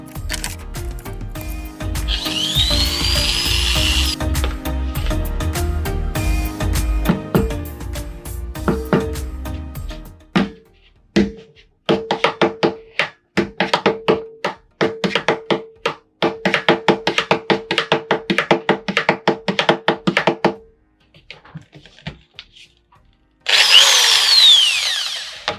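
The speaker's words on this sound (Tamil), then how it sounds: "இப்போ கேன்ல வந்து ஓட்ட போட ஸ்டார்ட் பண்ணியாச்சு" Electric drilling machine making holes in metal cans, heard close and loud: a long steady drilling whine, then a stretch of rapid stuttering bursts and clatter, and a final short drill burst.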